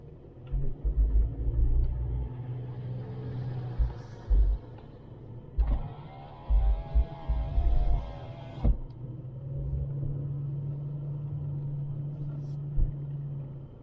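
A car cruising slowly through the grounds of Barnsley Resort and Gardens, low engine rumble and road noise from inside the cabin, with bursts of thumps and a brief whirring sound midway, and people talking at times.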